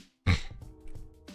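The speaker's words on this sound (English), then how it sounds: "I got a cough." A single short, rough throat clearing close to the microphone, a sharp burst after a moment of quiet followed by a softer rumbling trail and a second faint catch near the end.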